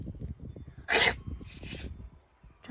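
A short, sharp sneeze bursts out near the one-second mark. A breathier second puff follows a moment later, all over a low background murmur.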